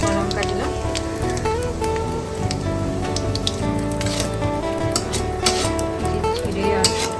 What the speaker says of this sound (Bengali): এই জিরে ফোড়ন দিলাম, এখানে কয়েকটা শুকনো লঙ্কা দিলাম